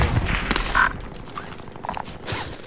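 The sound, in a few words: machine gun fire in a video game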